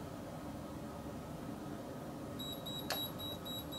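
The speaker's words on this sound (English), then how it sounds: "it is beeping like that and saying danger" Repeated short high-pitched electronic warning beeps from a portable breathalyzer reading 0.08 sound over a steady background hiss, evenly spaced, with one brief louder click partway through.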